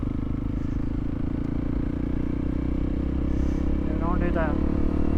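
A Honda CRF300L motorcycle chugs along while being ridden on a spring evening, its low engine drone steady and continuous, with a short burst of voice near the end.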